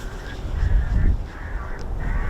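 Harsh, honking bird distress cries played from a bird-scaring recording at an RAF airfield repeat in short squawks over loud wind and outdoor rumble.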